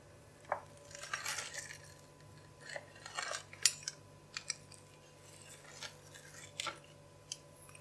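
A knife cuts a cheese-stuffed paratha on a plate, giving a series of faint, irregular scraping clicks and taps against the plate, with no one talking.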